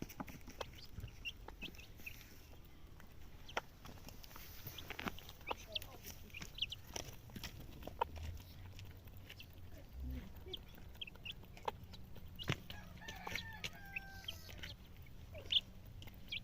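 Chickens clucking at a rural tribal homestead, scattered short clucks and calls over quiet background, with people talking faintly now and then.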